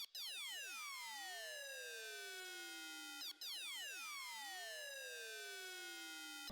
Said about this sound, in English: So we got this Ring Mod 2 preset